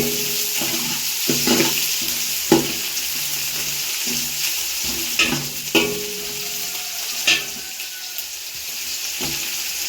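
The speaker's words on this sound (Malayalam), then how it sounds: "പിന്നെ ഇടത്തുള്ളി ഇഞ്ചി കൊടുക്കുന്നു പിന്നെ കറിവേപ്പില സവാള ഇട്ടൊന്ന് വഴറ്റി" Ginger, curry leaves and sliced onion stirred in a hot pan for a coconut rice dish, giving a constant bright sizzle with occasional scraping stirs, close up and without talk.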